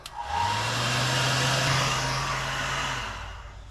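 A heat gun blows hot air to shrink heat shrink tubing over tail light wiring on a 1960 Morris Minor 1000: a steady, close, fan-driven whoosh that lasts about three seconds, then cuts off.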